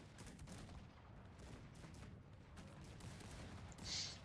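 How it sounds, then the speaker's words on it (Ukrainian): Cannon and gunfire crackle in the battle strategy game Cossacks 3, a dense, distant-sounding barrage of overlapping bursts at low volume with a brief brighter impact near the end. "Гарматки прилетіли непогано."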